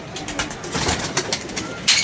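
A pigeon coos in soft, repeated low calls, close and clear, with no talking.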